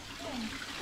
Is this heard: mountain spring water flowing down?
yes